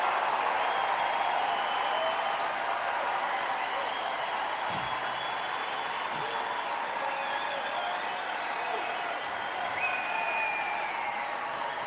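A large crowd at an outdoor political rally in Arizona claps and cheers steadily throughout, a dense, even wash of applause with faint distant voices mixed in.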